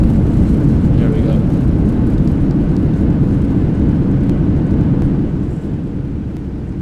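Thrust reversers on a simulated Boeing heavy airliner roar during landing at Manila in a flight simulator game. A steady, loud, low rumble fills the cabin and eases off near the end.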